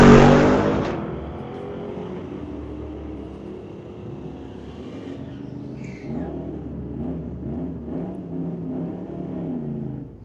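A 2023 Corvette and a 1968 Ford Torino drag racing at a street-legal night event at Mission Raceway Park, a loud launch roar fading into a sustained engine drone as the cars run down the strip.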